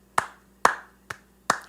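Four sharp hand claps from one nearby person, spaced evenly about half a second apart, offered as a round of applause for the Loch Ness Monster coaster at Busch Gardens Williamsburg. Each clap stands alone with no voices.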